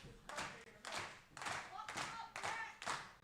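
Live crowd at a pro wrestling show clapping in rhythmic bursts, about six swells of applause in a row, loud and close, with a commentator's voice faintly underneath.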